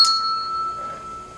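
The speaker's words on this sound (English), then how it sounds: "Can you ring the bell?" A trained horse rings a bell on a farm, a single clear ding that rings out and slowly fades, heard alone and close.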